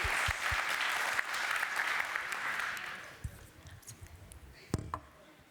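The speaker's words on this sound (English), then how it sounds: "Let's give a big round of applause for Tarah, please." A crowd at the Devopsdays Amsterdam 2019 tech conference applauds a speaker. Loud massed clapping fills the first three seconds, then thins out to a few scattered, distinct claps that trail off.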